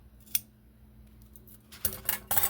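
Scissors snip through craft material for a handmade flower, a few short crisp cuts close by, one brief snip early and a cluster of louder snips near the end, with no talk.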